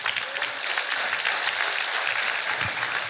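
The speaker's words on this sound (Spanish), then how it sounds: "dale un aplauso" A Sunday church congregation breaks into sustained applause, a dense, even wash of clapping from many hands that holds steady from start to finish.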